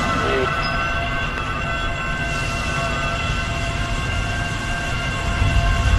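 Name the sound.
train passing in a video game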